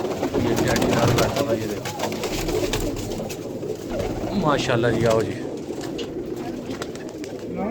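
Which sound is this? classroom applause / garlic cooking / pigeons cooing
pigeons cooing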